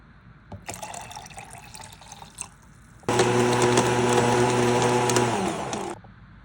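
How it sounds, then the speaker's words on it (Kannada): About two glasses of water go into amla for juice. A splashing pour is followed by a louder, steadier rushing stretch before it stops. "ನೀರು ಕೂಡ ಹಾಕೋತಾ ಇದ್ದೀನಿ"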